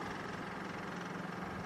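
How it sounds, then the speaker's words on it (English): A diesel skid steer engine idles with a steady, even mechanical drone that stays faint and constant throughout, with no talking. "This one's a diesel, so I usually just let it kind of get fired up."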